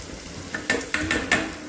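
Soaked, washed rice being tipped into a pot of boiling water for mutton biryani, heard as about four short splashing, clinking bursts over a low bubbling hiss, close and fairly loud.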